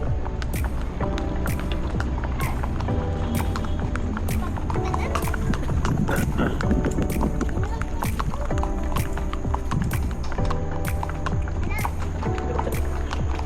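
Horse hooves clip-clop in a steady, even rhythm during a horse ride in Baguio City, close and clear throughout, with a bed of background voices and outdoor bustle underneath.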